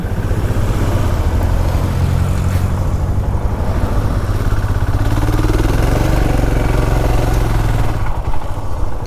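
A motorcycle engine runs loud and close at a steady low rumble while the bike is moved up a slope to park during a Goa to Ladakh ride, continuing without a break and with no talking over it.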